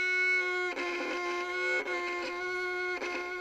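A bowed string instrument played with heavy bow pressure close to the fingerboard, giving a strained, poor tone; three long sustained strokes with brief breaks at each bow change, played alone without talking.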